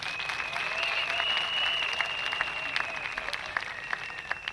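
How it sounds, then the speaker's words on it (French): A congregation claps at an evangelical crusade gathering in Dschang. The applause runs steadily at a moderate level, and a sustained high tone, likely from a keyboard or microphone, is heard over it. "Applaudissez pour le Seigneur."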